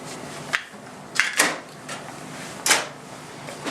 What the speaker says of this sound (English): You can see how easily it all just kind of opens and pops back together.